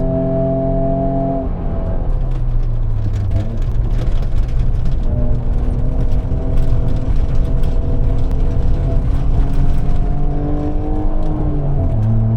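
A Ford Mondeo ST200 climbs uphill on the Nürburgring, its engine droning loud from inside the cabin and rising and dropping in pitch through the gears, with no talk heard.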